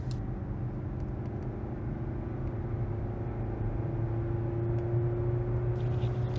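A Hyundai Tucson NX4 engine is revved to about 40% power in normal mode, heard as a steady low hum whose pitch rises gradually across the span, with a faint beep or chime near the end.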